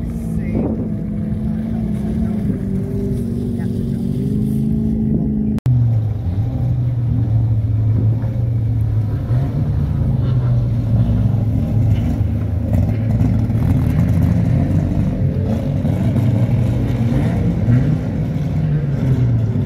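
A banger race car engine drones loud and close at a March practice day at Warton, a steady throaty roar with shifting pitch under wind buffeting, a sudden brief cut partway through, then a deeper sustained drone.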